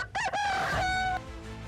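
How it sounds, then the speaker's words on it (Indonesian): A rooster crows a single full cock-a-doodle-doo at close range, loud and alone, its rising call holding steady before breaking off and fading into quiet background. "Ayam pun berkokok ketika pekerjaan Sangkalelana hampir selesai."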